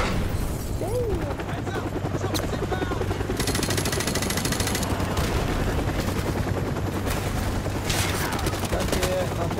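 Gunfire in Call of Duty Modern Warfare Remastered: sustained loud bursts of automatic fire and explosions across the whole stretch, with a constant mechanical drone underneath, dense and close.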